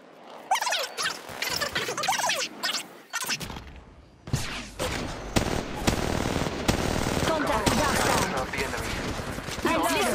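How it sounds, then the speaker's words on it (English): Gunfire in the mobile shooter Apex Legends Mobile, played on a Xiaomi Redmi 10 phone: rapid automatic bursts with a brief lull, then dense sustained shooting with sharp individual shots, mixed with game voice callouts. "I am taking fire"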